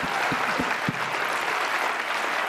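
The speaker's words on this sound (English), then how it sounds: "let's give a round of applause" Audience applause at a talk on Indigenous knowledge, a few distinct claps at first then a steady moderate wash of clapping from a seated crowd.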